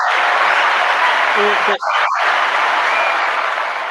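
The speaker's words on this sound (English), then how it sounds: "Can we get a hand clap, please?" A crowd bursts into sustained applause, dense loud clapping that fills the whole span with only a momentary dip, a voice briefly speaking over it.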